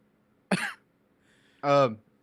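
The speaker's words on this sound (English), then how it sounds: "just cough in the microphone" A single sharp cough, then a short pause and a brief voiced grunt or sound, close to the microphone in a quiet space.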